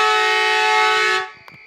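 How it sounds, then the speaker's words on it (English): A loud, sustained half-time siren at a suburban Australian football oval blares steadily for over a second, then cuts off abruptly, leaving faint background noise. "And that's the siren there now"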